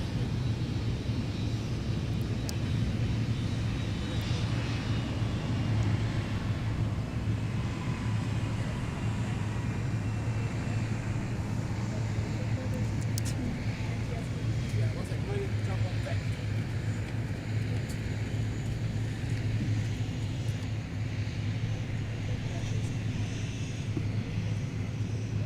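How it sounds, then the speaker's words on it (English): A Boeing 757-300 airliner taxiing out for takeoff at MSP airport, heard as a steady low engine rumble and hum that holds at an even level throughout, somewhat distant and mixed with broadband background noise. "as we've got our 757-300 taxiing out for takeoff"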